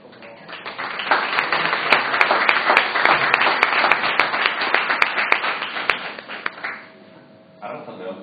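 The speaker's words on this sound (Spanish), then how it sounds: "me gustaría que le diéramos un fuerte aplauso" Dense audience applause fills a wine presentation in Bilbao for a Gipuzkoa txakoli winery, loud and sustained for about seven seconds before fading, with a voice starting afterward.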